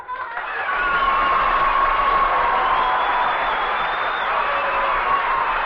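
Studio audience applause for comedian Danny Kaye, a dense, steady wash of clapping that swells in quickly and holds loud and full for several seconds with a faint hum of crowd beneath.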